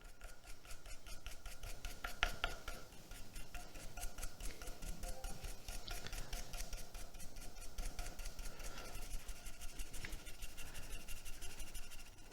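A brush works rainbow wax into a wooden surface with quiet, steady scratchy rubbing strokes up close, repeating in a continuous rhythm with no talking.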